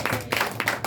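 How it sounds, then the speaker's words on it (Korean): A crowd at a Korean community launch ceremony claps for its representatives, with dense, steady applause in bursts under a faint murmur. "우리 대표님들을 향하여 큰 박수를 쳐드리겠습니다"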